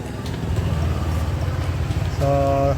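A Yamaha Nmax v2 scooter runs with its engine hot, a steady close-up idle with a faint ticking in it, and someone speaks over it near the end.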